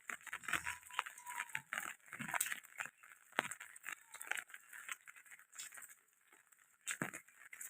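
Winter rain falls in Udaipur in an irregular, faint patter with scattered crackling drops and uneven bursts of louder splashing throughout.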